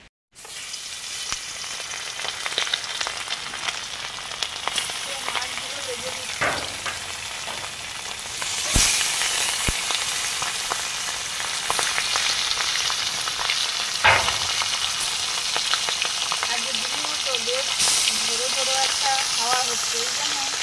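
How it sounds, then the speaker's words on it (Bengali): Raw fish frying in hot oil sizzles loudly and continuously, with occasional clatters of stirring and faint voices in the background. "কাঁচা মাছগুলো ভাজা হয়ে গেছে।"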